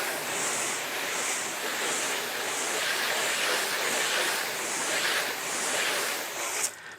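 Steady broadband hiss of water spraying from a hose onto a car, continuous and close, with a faint rhythmic pulsing in the spray and a brief clatter near the end.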